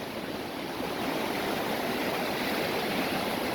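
Steady, dense rushing of river water at an Appalachian Trail river crossing, a continuous broadband roar close by and filling the whole stretch without voices.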